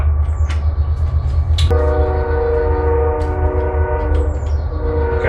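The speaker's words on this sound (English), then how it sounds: "You always hear the train on these videos, don't you?" A train passes nearby, its loud continuous low rumble filling the clip while a sustained horn blast sounds in the middle and runs on steadily to the end.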